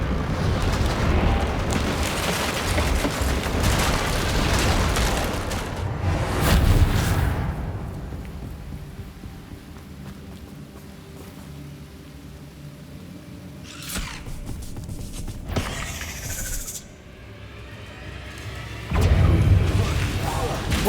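Reparo spell in Hogwarts Legacy mending a chasm, heavy rumbling crashes and grinding eruptions of rock, loud at first, easing, then more booming impacts near the end.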